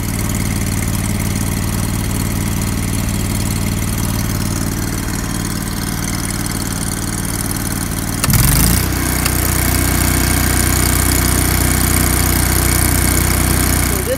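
A Champion Elite welder generator engine idles steadily with a constant low drone and rumble. Partway through, its pitch and level shift slightly as the running changes, and it stays loud and close throughout with no speech.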